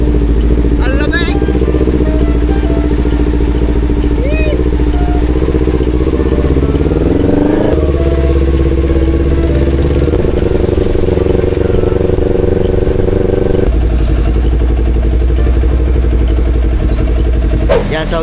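A motorcycle engine idles and revs under steady heavy typhoon rain, with people talking and shouting over the noise throughout.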